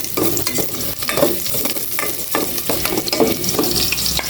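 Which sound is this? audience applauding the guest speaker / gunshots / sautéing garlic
sautéing garlic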